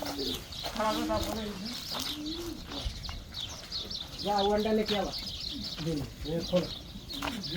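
Pigeons coo repeatedly in soft, rolling phrases, close by on a farm in Wafra, Kuwait, where chickens are also kept, with chirps and some background voices mixed in.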